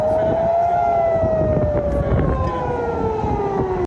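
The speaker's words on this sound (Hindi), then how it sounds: "इसराइल भर में सायरन बज उठे" A loud wailing air raid siren in Israel after Iranian missile attacks, with a steady, slowly falling pitch, sustained and close, with a mix of background noise beneath it.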